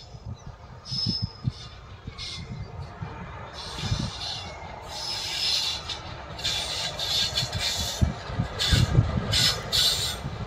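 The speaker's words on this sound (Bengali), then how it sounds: "এই ট্রেনটি হচ্ছে কাটুয়া আজিমগঞ্জ নিমতিতা এক্সপ্রেস" The Katwa–Azimganj–Nimtita Express passes near the Nashipur rail bridge: a continuous low rolling rumble of wheels on track, with repeated bright hissing and squealing bursts rising and falling as the carriages go by.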